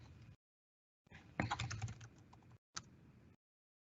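Quiet, close clicking of computer keyboard keys as a password is typed in short bursts, with brief silent pauses between the runs of keystrokes.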